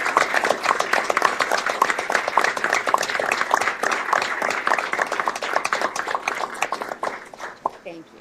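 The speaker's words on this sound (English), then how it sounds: "So can we just give these folks a round of applause?" Sustained applause from attendees at a county commissioners board meeting, dense steady clapping that fills the room and tapers off near the end.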